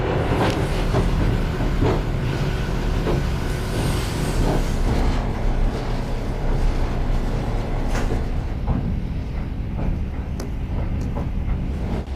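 The 001 passenger train from Vladivostok to Moscow rolls along the rails with a constant heavy rumble, broken by rhythmic clicks and clacks, heard from inside a carriage without any talking.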